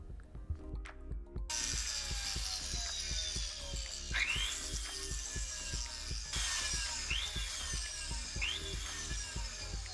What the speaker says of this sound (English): I'll do the first stage of polishing with Tripoli and use a bristle brush to polish the collet.